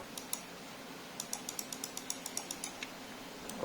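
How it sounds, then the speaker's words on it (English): The left button of an ADATA XPG Primer gaming mouse clicks about a dozen times in a quick, fairly even rhythm, each click crisp and close in a quiet room. "now let's hear the clicking sounds of the left click"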